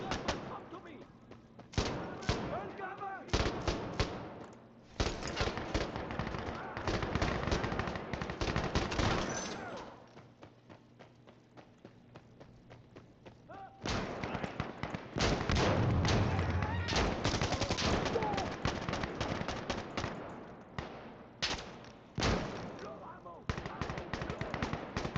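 Bursts of automatic and single-shot gunfire in the video game Insurgency Sandstorm, loud and close, coming in dense volleys with short pauses, while players talk over the shooting.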